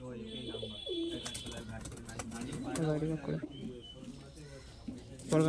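A Kalshira pigeon, a Giribaz flying breed, coos softly in low repeated calls, mixed with faint fluttering and chirps while a person talks over it.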